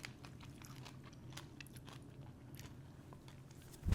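Crunchy biting and chewing of air fryer dill pickle chips, one of them burnt, heard close up and fairly faint as a steady run of small crisp crackles without speech.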